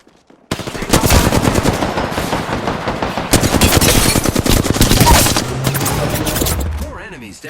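Rapid automatic gunfire in Apex Legends on PS5 fills the scene with loud, dense bursts and sharp repeated shots, with a voice briefly speaking amid the firing.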